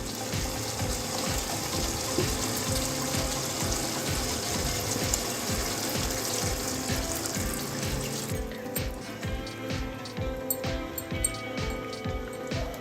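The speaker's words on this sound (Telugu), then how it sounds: "ఇప్పుడు ఇందులో కొద్దిగా వాటర్ యాడ్ చేసుకుందాం." Water pours steadily into a pot of mutton dum biryani, a continuous rushing splash that stays even, then thins into a lighter trickling and bubbling toward the end.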